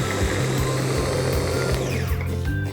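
Mixer grinder pulsing soaked dal for a South Indian thayir vadai batter, a loud continuous motorized whir with a low churning drone and slight rhythmic surges, close and unbroken, no talk.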